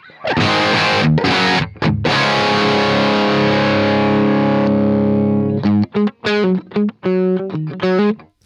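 An electric guitar riff played through a 1986 50-watt Super Bass amp and a half open-back 4x12 cabinet. Thick distorted sustained chords are followed by choppy, staccato riffing with short gaps, loud and close, with no talking.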